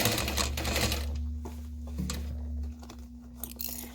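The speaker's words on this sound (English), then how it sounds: "And I'll back stitch." Sewing machine back stitching a backpack seam, a close mechanical whirring clatter that runs steadily, slows and stops, then restarts in short bursts with faint handling noises.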